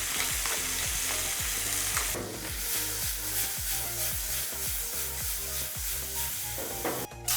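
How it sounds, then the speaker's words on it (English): Artichokes sauté in butter in a pan over medium heat, a steady close crackling sizzle with repeated scraping stir strokes, ending in a sharp clatter. "I'm going to take this artichoke thing to saute."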